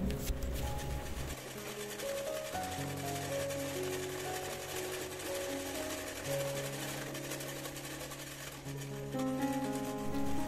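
A sewing machine stitches a double seam, its steady mechanical rattle running continuously under background music.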